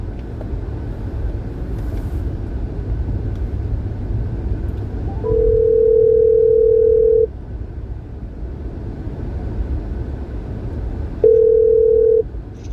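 A steady telephone line tone holds through a call being placed, with a louder pure beep at about five seconds lasting two seconds and another short beep near the end, over low road-like rumble.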